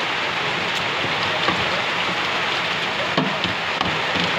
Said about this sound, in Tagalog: Ulan talaga ulan.